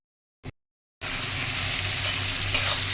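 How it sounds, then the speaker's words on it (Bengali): Milk being stirred in a pot while cooking payesh, with a brief scrape early on, then a steady close bubbling and stirring noise that carries on to the end, with no talking. "সমানে পায়েস করলে সমানে এরকম নাড়াতে হবে, নাহলে তলায় লেগে যায়।"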